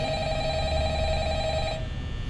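A Five Nights at Freddy's telephone rings steadily, loud and close, a sustained electronic bell tone that cuts off near the end.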